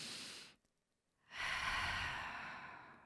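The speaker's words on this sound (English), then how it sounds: "I'm going to take a deep breath." A slow, deep breath drawn in and let out, soft and close, with a brief silent pause between the airy inhale and the long, fading exhale.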